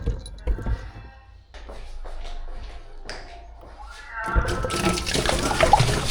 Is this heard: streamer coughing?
no